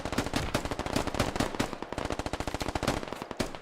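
Sustained automatic gunfire in the military shooter Squad during a large assault, a rapid, dense stream of loud shots with a few brief pauses, no voices over it.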